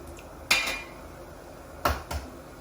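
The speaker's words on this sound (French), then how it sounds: "On casse l'œuf dedans." Egg cracked against the rim of a pot of water heated with white vinegar for poaching, two sharp clicking taps about a second and a half apart, close and clear over a quiet background.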